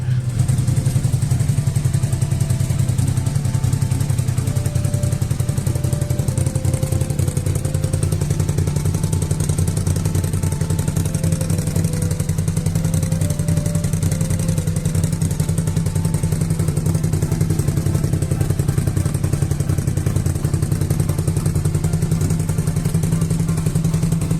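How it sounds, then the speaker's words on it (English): Suzuki SV650 motorcycle engine idling steadily with a one-cylinder misfire, a continuous loud low rumble with a rough uneven beat, close by and with no talk. "There's a little bit of a misfire on one cylinder"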